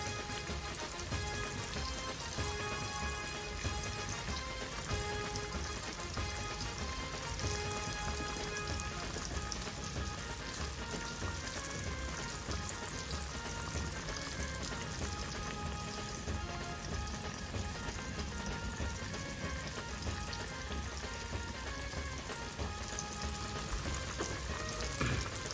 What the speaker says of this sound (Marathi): आणि इकडे बोंबील आपले तव्यामध्ये जात आहे.